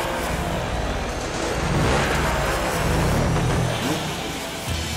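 An enduro motorcycle tears off from the start of a Hard Enduro time trial, its engine loud, close and continuous, rising and falling with revs over several seconds.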